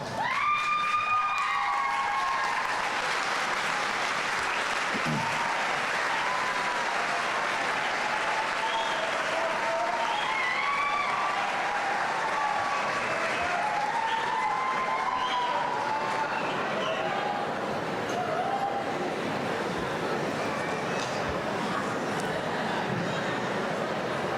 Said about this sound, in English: stand up, turn around, find them, and give them a round of applause